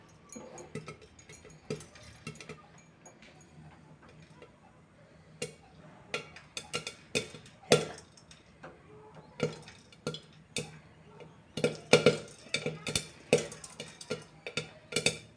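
Jowar (sorghum) grains popping in a covered pan at home: sharp, sparse clicks and ticks that grow denser and louder into rapid, irregular crackling bursts, with no talk over them.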